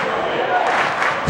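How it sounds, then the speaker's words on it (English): Basketball crowd in a college gym on its feet, a dense roar of cheering and shouting under a commentator's voice, with a thud near the end. "Crowd on its feet."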